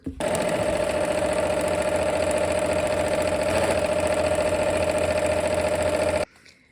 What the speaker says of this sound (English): All right, let's go ahead and sew.